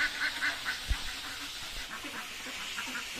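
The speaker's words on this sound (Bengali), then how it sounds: "হাঁসগুলোকে ধান খেতে দিলাম" Village ducks fed paddy grain give a few short, faint quacks early on, followed by quieter shuffling and low background noise.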